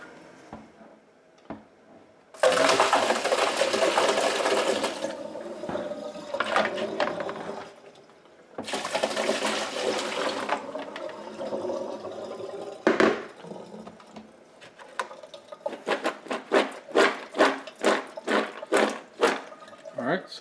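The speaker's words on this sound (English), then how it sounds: "I'm going to go to the sink and I'm going to strain off my carrots and turnip just to get rid of the water" Water pours out in two long splashing bursts as boiled carrots and turnip are drained through a strainer in a kitchen sink, followed by clattering and a quick series of knocks and taps.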